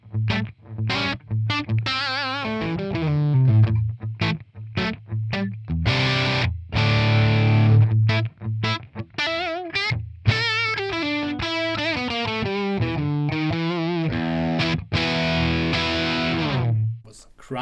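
Les Paul electric guitar on its bridge pickup played through an amp with a bluesy crunch tone, loud, distorted bluesy phrases and held notes playing continuously, close and alone.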